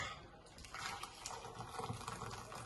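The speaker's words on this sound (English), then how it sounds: "I'm just pouring the kettle now." Water from a kettle poured into a roasting tin on a hob, a steady gushing, splashing pour at close range that runs throughout with no talk.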